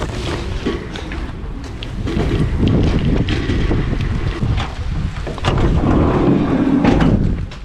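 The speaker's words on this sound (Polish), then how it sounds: "O kurde, wiatr." Wind buffets a microphone outdoors in a backyard, a loud rumbling roar that swells and gusts throughout with no clear voices.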